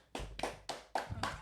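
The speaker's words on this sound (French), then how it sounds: "mais on applaudit tous, mais sous la table." Five muffled, evenly spaced claps struck beneath a table, each a dull thump with a short decay, quiet and close with no talking.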